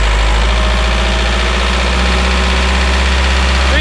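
A VW/Audi car engine held at about 2000 rpm during turbo underboost diagnosis, a loud, steady, close-up drone with a strong low hum and even mechanical vibration, no talking.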